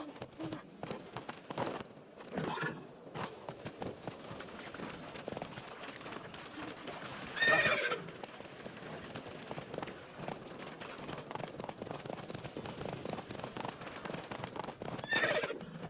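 Roach, a horse in the video game The Witcher 3, whinnies loudly mid-clip and again near the end, over a steady run of hoof clip-clops and faint forest ambience.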